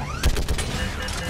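Mounted gun fire in the video game Mass Effect 3, heard as a short, loud rattling burst of rapid shots that is close and dense, with no talk over it.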